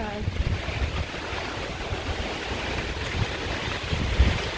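Strong typhoon wind buffets the microphone in Dumaguete City, Negros Oriental, as a steady, rough roar with gusty surges, loud and close throughout.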